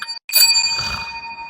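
A bicycle bell rings sharply and close, with a bright metallic ding and a lingering shimmering ring that decays over about a second.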